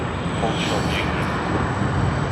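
A Qantas Airbus A330 at Sydney Airport gives a continuous loud engine roar with a slight whine on top, and a person talks over the noise.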